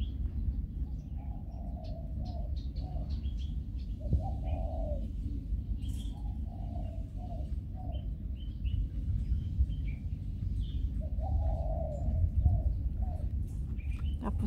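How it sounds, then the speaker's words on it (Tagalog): Repeated soft cooing calls of doves, spaced out over steady low rumbling wind, with a few faint chirps in the background, on Peng Chau island. "Tapos may ibon kang maririnig."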